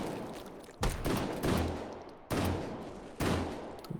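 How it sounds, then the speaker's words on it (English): Shotgun blasts in a first-person shooter game, four heavy booming shots spaced irregularly, each with a sharp attack and long decaying tail, loud and close with no voices. "Switching very nicely over to the shotgun."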